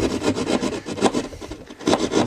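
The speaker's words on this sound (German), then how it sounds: "Drückt die Säge ein bisschen hoch, so dass ich merke, da ist Widerstand." A hand saw rasps back and forth through drywall plasterboard in steady, rhythmic strokes, close and fairly loud, with no voices.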